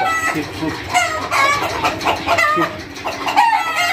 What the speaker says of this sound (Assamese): এইটো চিল্কি হয় চিল্কি চিল্কি মুৰ্গী